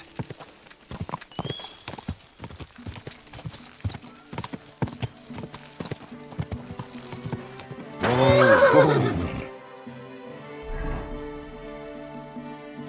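Horses in the video game Kingdom Come: Deliverance 2 clop along with rhythmic hoofbeats, then one gives a loud, close whinny that trails off, with a brief thud after.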